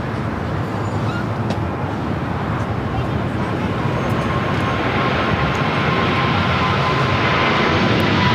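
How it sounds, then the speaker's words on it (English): Boeing 777 freighter rolling for takeoff on runway 25 left at LAX, a loud, steady, continuous engine roar building slightly, with faint talk underneath. "Triple 7 freighter now rolling down at 25 left."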